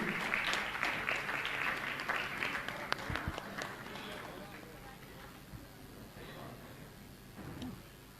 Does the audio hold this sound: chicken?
no